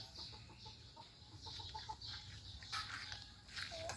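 Chickens, including an old hen, cluck softly in short, scattered bursts over steady low background noise during morning feeding, with a few sharper squawks toward the end.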